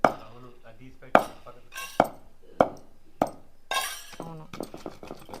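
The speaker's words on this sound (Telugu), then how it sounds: "ఏంది అక్కడ గిన్నెలు అదురుతున్నాయా" Metal cooking vessels clink and rattle in a home kitchen while a tomato-cucumber chutney is ground, a series of sharp separate knocks about every half second, with a voice talking between them.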